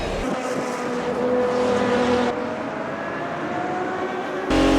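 A Ferrari race car in the sim racing game Automobilista 2, its engine holding a high, steady whine with rising harmonic tones, joined near the end by a louder, closer engine surge.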